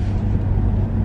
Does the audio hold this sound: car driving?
yes